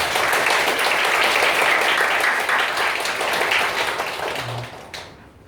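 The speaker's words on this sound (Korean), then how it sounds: "우리 박수로 양 목사님의 발제를 청해 듣도록 하겠습니다." An audience at a Korean church debate forum claps to welcome a pastor's presentation, dense steady applause that thins and fades out near the end, followed by a brief low thump.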